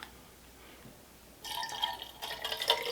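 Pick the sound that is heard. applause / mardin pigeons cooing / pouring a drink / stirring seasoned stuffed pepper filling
pouring a drink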